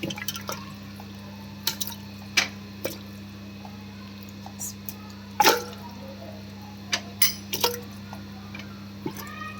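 Scattered splashes and plops as pig trotters drop into a pot of water, with a steady low hum in the background.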